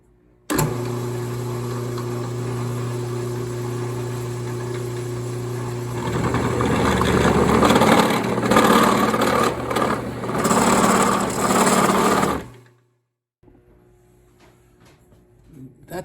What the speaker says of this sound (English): put in the route or the drill press and run into aluminum